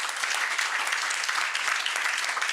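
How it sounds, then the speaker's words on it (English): An audience claps at a church ministry's World Asthma Day gathering. The dense, steady applause is close and loud and runs the whole time without a break. "Give him one more clap."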